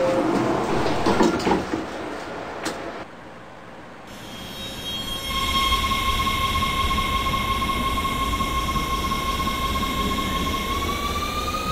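WMATA DC Metro 1000 Series Rohr Red Line train pulls away in the OpenBVE simulator game: a steady rolling rumble carries rising motor whines and a squealing tone that climbs as the train gains speed.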